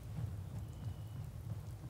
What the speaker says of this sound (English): Hope this rain lets up soon.